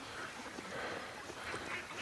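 Quacking ducks on a lake make faint, scattered calls over a noisy outdoor background, brief squawks spread unevenly through the moment.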